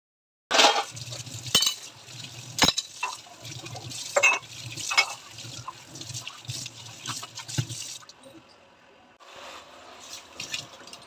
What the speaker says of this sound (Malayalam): ഇനിയും വെള്ളം ഒഴിച്ച് കഴുകിയെടുത്താൽ മതി.